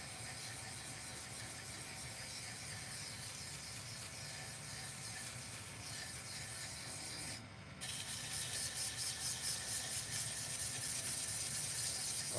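Hand sanding with sandpaper, a steady close rasping rub that runs continuously, briefly drops out, then returns with quicker rhythmic strokes.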